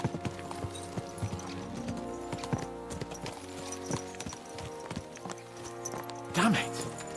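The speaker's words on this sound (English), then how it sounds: "Let's really spur these horses on, eh?" Horses in Kingdom Come Deliverance 2 gallop with rapid, repeated hoof thuds over continuous game music, a brief snort or whinny rising near the end; a voice speaks over it.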